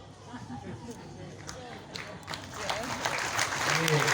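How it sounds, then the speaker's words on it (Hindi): Devotees at an ashram clap hard and continuously, the applause starting scattered and building to a louder, denser patter with a voice speaking over it. "जोर से ताली बजाइए, लगातार बजाइए"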